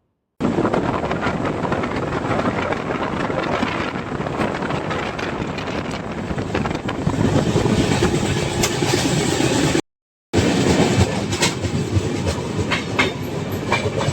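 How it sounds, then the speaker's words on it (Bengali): A Visakhapatnam to Chennai passenger train rushes past close by, a loud continuous roar with rattling wheels clattering on the rails and wind buffeting the microphone. "বিশাখাপট্টনম টু চেন্নাই যে ট্রেন সেটি এখন ছুটে চলে যাচ্ছে দ্রুত গতিতে"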